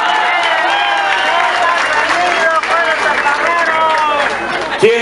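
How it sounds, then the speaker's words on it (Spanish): Applause at a campaign closing rally, continuous dense clapping from a large crowd with cheering voices over it, steady and loud throughout. "Un fuerte aplauso para Yasmín Copete Zapot y para Julen Rementería"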